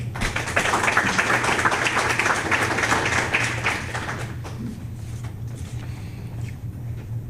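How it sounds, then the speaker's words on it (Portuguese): An audience gives a strong round of applause, dense clapping that holds steady for about four seconds and then thins out into scattered claps and quiet room noise over a low hum. "Recibe um forte aplauso"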